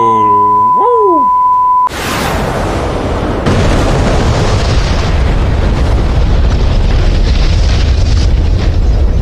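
A ripple of bombs dropped from an A-4E Skyhawk explodes on a convoy in DCS World, a tone cut off by a loud close blast followed by a second detonation and long rolling rumble.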